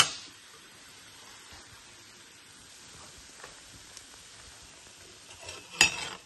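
Carrot fritters frying in hot oil, a soft steady sizzle at low level with faint utensil clinks and a brief louder stir near the end, no talking.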